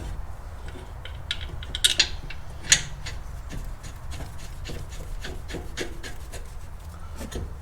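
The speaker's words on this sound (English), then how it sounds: "There's my ratchet" A ratchet wrench works on 16 mm bolts of a 2003-2009 Mercedes CLK W209 during a differential replacement, giving rapid clicking pawl bursts and metallic ticks over a quiet garage background.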